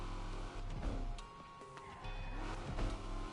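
A car engine in Need for Speed Unbound revs and hums steadily, rising and falling in pitch, with a mechanical, synthetic quality and no talking.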